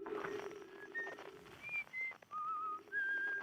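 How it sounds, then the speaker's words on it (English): A whistled signal from the Outer Wilds video game, picked up through the in-game signal scope: a series of short, clear tonal whistles rising and falling over a faint low hum, quiet and alone. "Oh, that's the whistling thing we also heard from Timber Hearth."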